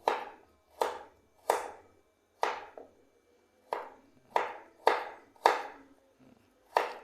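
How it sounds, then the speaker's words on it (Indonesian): Temulawak (Java ginger) is sliced with a knife on a board, about a dozen crisp, separate chopping strokes in an uneven rhythm, close and fairly quiet, with no talking. "temulawak diiris-iris dulu"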